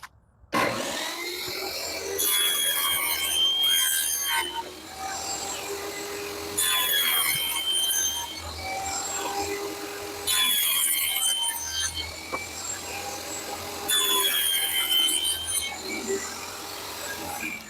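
A table saw rips luan plywood into 1.5 inch strips for a truck console build, its sawing noise rising and falling in four or five repeated passes at close range, with a steady motor hum underneath.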